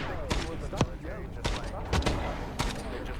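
Call of Duty gunfight with repeated sharp gunshots and bursts of fire, close and loud, separated by short gaps over steady game ambience.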